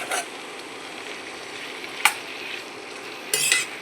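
Finely chopped bamboo shoots dropped into hot oil with onion, peas and chilli and stirred, making a steady close sizzle broken by a few sharp scrapes and clatters of the spoon against the pan.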